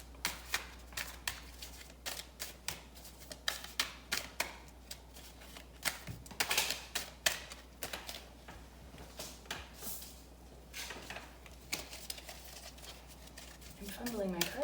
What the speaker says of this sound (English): Fumbling my cards right now.